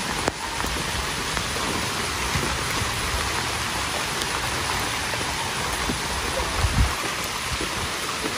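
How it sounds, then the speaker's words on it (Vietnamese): Heavy rain pouring down on a rural Vietnamese village during roadwork: a loud, steady, dense hiss of rain hitting surfaces close by, continuing unbroken with a faint low thump near the end and no voices. "Nhanh lên, mưa lắm rồi."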